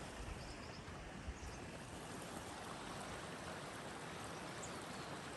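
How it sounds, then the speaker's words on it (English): Steady broadband rush of the Green River flowing past a riverside lunch spot in the Wind River Range in fall, constant and even throughout with no voices. "We're sitting right along the river."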